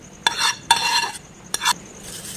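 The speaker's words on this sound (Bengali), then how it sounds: "ফ্রাই প্যানে মশলা লেগেছিলো, তো কিছুটা ভাত দিয়ে আমি এভাবে মশলাটাকে মুছে দিয়ে দেবো।" Cooked rice scraped and stirred around a frying pan to wipe up leftover masala for an egg and potato biryani: three short scraping strokes over a faint background sizzle, close by, no speech.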